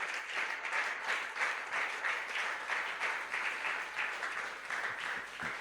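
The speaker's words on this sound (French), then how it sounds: "Est-ce qu'on peut acclamer très fort pour la gloire de Jésus?" Church congregation at a Sunday worship service applauding steadily, a dense, sustained wash of many hands clapping that holds at an even level throughout without pauses.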